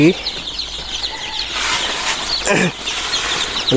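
Chickens in a poultry shed, clucking and squawking with bursts of wing flapping over a dense background of flock noise, fairly close and loud.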